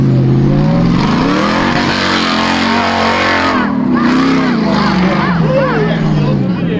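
Stock class off-road race car at King of the Hammers, driving through desert terrain: a loud, close engine droning and revving with rising and falling pitch, continuous throughout.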